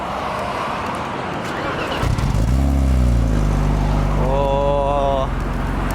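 A small car's engine cranks and catches, then settles into a steady idle with a slight rev, heard close. A voice talks in the background before it starts.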